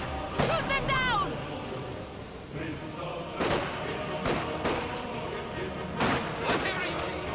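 Soldiers trade gunfire in the video game Behind Enemy Lines: several sharp, loud shots or blasts spaced irregularly across the stretch, with voices talking throughout.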